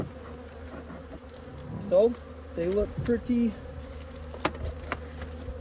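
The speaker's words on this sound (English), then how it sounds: "Bees were fairly active," Honeybees buzz steadily around a hive during an early spring inspection on a warm day in Utah. A continuous close hum runs throughout, and someone speaks briefly partway through.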